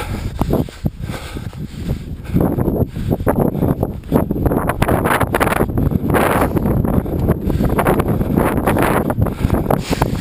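Strong wind buffeting the microphone in a continuous loud roar during a trail climb at Fontaine de Vaucluse, with gusty rumbling swells and some rustling throughout.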